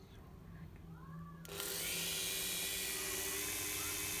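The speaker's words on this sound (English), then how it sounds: "now let's switch the Dremel and see the result." A Dremel 4000 rotary tool switches on after a quiet moment, then holds a loud, steady high-pitched whine close by for the rest of the clip.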